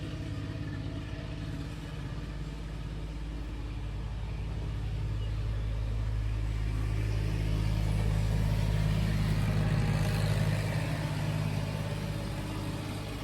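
Farm tractor out cutting hay, driving past with a steady low diesel rumble that swells slightly louder midway, continuous and moderately distant with broad outdoor background noise.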